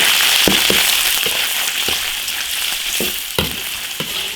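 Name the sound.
cured pork belly stir-frying in a wok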